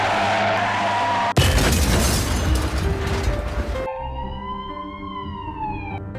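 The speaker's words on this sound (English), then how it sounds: "A truck skidded through a red light." A truck skids through a red light: a sustained tire screech breaks into a loud burst of skidding noise and rumble, then gives way to a wailing siren whose pitch rises and falls.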